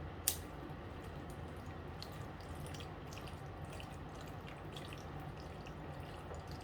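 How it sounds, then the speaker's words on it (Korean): Laundry is rinsed clean with water, making a faint, continuous wet swishing with scattered drips and one sharp splash near the start. No one speaks. "이거를 깨끗하게 다시 물로 헹궈 볼 건데요"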